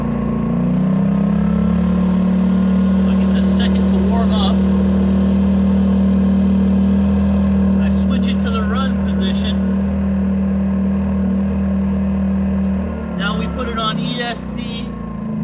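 A Predator 2000 generator starts and runs, its steady engine drone holding loud and close throughout, with brief talk breaking in over the hum before the engine note shifts and settles near the end.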